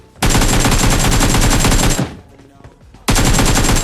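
Rapid automatic gunfire from an AKM in PUBG Mobile rattles loudly and close in two long sustained bursts separated by a brief quieter gap.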